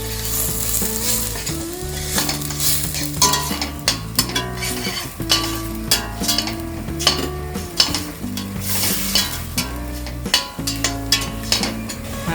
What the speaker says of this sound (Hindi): पेस्ट अच्छी तरह से फ्राई हो गया है।